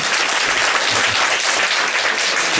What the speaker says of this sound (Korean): 박수로 인정되었습니다